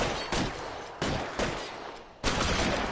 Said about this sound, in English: I'm shooting at my partner.